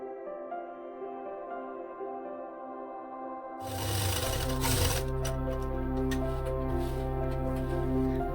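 A sewing machine stitches lining and main fabric together along a full side seam, starting after a quiet pause with a steady, close, loud mechanical whir that runs continuously without talk.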